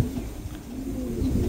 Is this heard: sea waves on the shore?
no